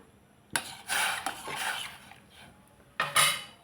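A spoon mixes turmeric and salt into dal in a pressure cooker pot, giving a few short metallic scrapes and clinks against the pot, close up, with quiet gaps between them.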